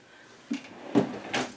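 Drawers of a cabinet in a fifth-wheel camper slide out to full extension, giving three close, short rumbling slides and knocks spaced about half a second apart, with nobody speaking.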